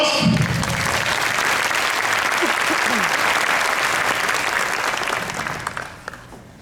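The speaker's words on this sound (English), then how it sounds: "Give our two volunteers a round of applause." Sustained audience applause at a Texas conference, greeting two volunteers called up on stage; steady dense clapping for about five seconds, thinning and fading out near the end, with a brief low voice at the start.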